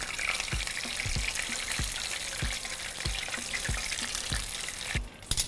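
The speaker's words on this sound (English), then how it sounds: "once the oil is nice and hot, we're going to begin to fry our tacos" Barbacoa taquitos fry in hot oil with a loud, continuous bubbling sizzle and regular soft knocks, then a brief clatter at the end; no one speaks.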